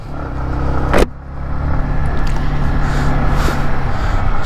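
Yamaha MT-15 motorcycle engine at the start of a ride, a loud, steady low rumble close by after a brief sharp clack, running on without talk.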